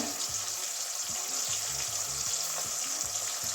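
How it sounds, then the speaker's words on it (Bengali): Bori, small sun-dried lentil dumplings, frying in hot oil, with a dense, even crackling sizzle holding steady from start to finish, close up with no talking. "ওইদিকেও এরকমই লাল লাল করে ভেজে নেব"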